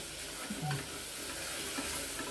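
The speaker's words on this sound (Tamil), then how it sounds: "இந்த இப்போ தக்காளியும் வதங்கிடுச்சு" Onion and tomato sizzling steadily in a hot pan for jackfruit biryani, with a few soft stirring scrapes near the start.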